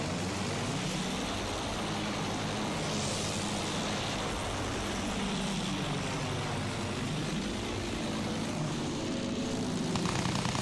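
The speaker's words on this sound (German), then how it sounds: "Feindliches Flugzeug, Jungs!" A propeller fighter plane in Battlefield 1 drones steadily through a dogfight, its engine pitch rising and falling as it passes, with continuous low rumble and no talk.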